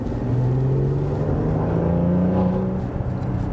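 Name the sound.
Maserati Levante S Q4 V6 engine accelerating in sport mode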